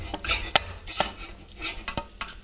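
Minced meat stirred into tomato sauce for a bolognese, with a spoon scraping and clinking against the pan in irregular bursts, close and moderately loud, no speech.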